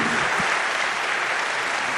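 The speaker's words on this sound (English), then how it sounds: "hand clap." Audience applause for a guest at a public conversation event, a dense, steady burst of clapping filling the room for a couple of seconds.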